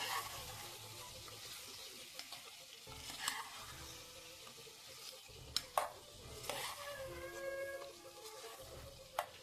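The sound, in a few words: frying and stirring chicken gravy ingredients in oil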